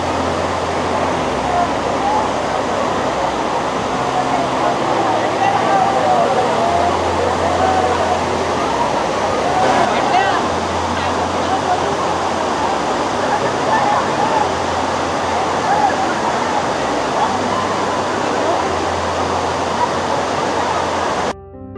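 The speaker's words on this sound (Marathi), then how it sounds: "हे तलावाचं पाणी पूर्ण वाहून असं छोट्या वॉटरफॉल सारखं झालं." Monsoon lake water at Matheran spills over like a small waterfall with a loud, steady rushing roar. The sound is close and continuous, and muffled voices come and go beneath it.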